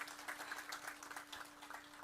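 An audience applauds at a lecture event, a faint, distant, steady patter of many hands clapping throughout, with no one speaking over it.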